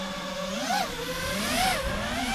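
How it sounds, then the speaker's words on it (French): Small FPV drone electric motors spinning up for takeoff, a whining buzz with rising and falling pitch sweeps as the throttle changes, close and steady with no talking. "Donc réarmement des moteurs, décollage."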